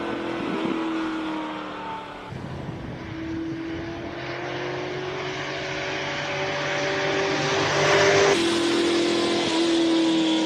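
Porsche 911 Turbo launching off the start of a hillclimb, engine climbing loudly in pitch through rising gears with a brief shift, close and strong with no talk over it.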